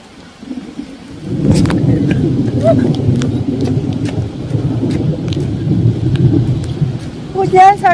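Heavy rain suddenly pouring down on a home yard, a steady broadband wash of downpour with low rumbling that may be thunder, continuous and fairly loud throughout, with brief voices near the end.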